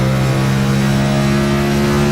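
A race car engine at full throttle on a racing-league track's backstretch, near 6,000 rpm in fifth gear, holding a loud, steady, close droning roar with no break.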